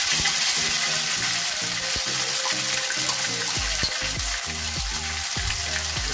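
Onion paste sizzles loudly as it hits a hot pan for a mushroom and pea sabji, a dense, close frying hiss with bubbling crackle. A faint repeating musical tone plays underneath.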